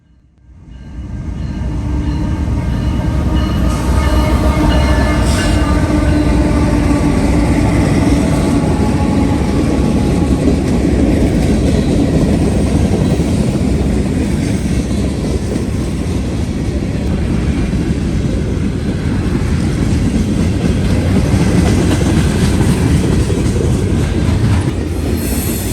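Norfolk Southern freight train rolling past close by on the Dayton District, a loud sustained rumble of wheels with rhythmic clicking over rail joints and occasional wheel squeal, holding steady for the whole pass.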